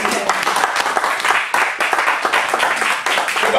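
A church congregation claps steadily in rhythm to acclaim the Lord, a dense, bright, fairly loud round of applause with a voice talking over it throughout.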